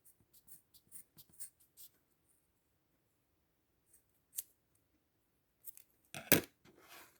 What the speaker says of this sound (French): Et je viens couper.